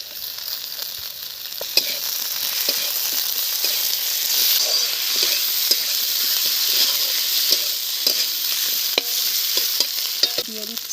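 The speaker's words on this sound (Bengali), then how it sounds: "পেঁয়াজ খুব সুন্দর করে ভাজা হয়ে গেছে দেখুন, পেঁয়াজ আর আলু। এখন আমি বাকি মশলাগুলো দিয়ে দেব, দিয়ে দিচ্ছি জিরে ধনে আদা বাটা" Onion and potato frying as cumin, coriander and ginger paste go into the pan, a continuous bright sizzle with scattered pops and spatula knocks, close by, with no voices over it.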